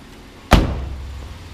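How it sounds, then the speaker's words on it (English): A used Hyundai Sonata's hood gives one sharp, loud thud as it is released or opened, followed by a short fading rumble, with only quiet background before it. "Now we'll pop the hood."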